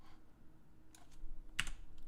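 Typing on a computer keyboard comes through as a few sparse, soft key clicks, with one sharper clack near the end, heard close and quiet with no speech.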